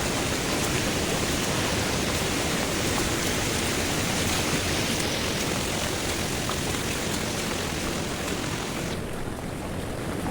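Water rushing down forcefully from a hillside in heavy monsoon rain in the Konkan: a dense, steady broadband roar, loud and close, holding constant for the whole stretch with no voices.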